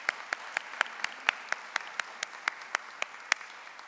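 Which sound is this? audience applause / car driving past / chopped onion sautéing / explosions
audience applause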